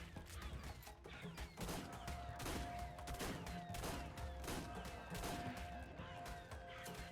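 Gunfire in the Minecraft video game: rapid, dense bursts of shots and crackling impacts run steadily for several seconds at moderate level, with sustained game tones beneath.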